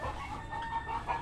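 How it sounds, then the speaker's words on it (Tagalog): Chickens cluck in a noisy overlapping chatter at a moderate distance, a continuous quiet jumble of calls with no one speaking. "Pag magbablog talaga ako yung mga manok, ang ingay-ingay talaga day."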